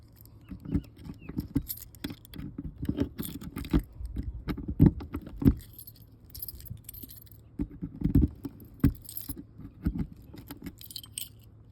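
A ring of keys jangles and clatters up close while someone hunts for the right key to a trailer storage area, in bursts of rattling with brief pauses throughout.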